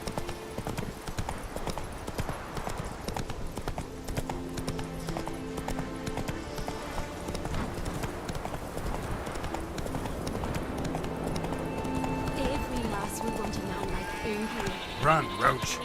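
Galloping horse hooves from The Witcher 3 pound in a fast continuous rhythm throughout, mixed with game music and ambience and an occasional whinny, while a player talks over it.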